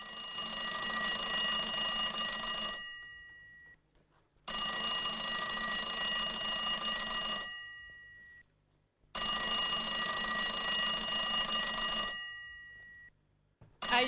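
A telephone rings for the red phone segment of an Argentine TV news show, three long bright bell-like rings separated by short pauses, loud and alone.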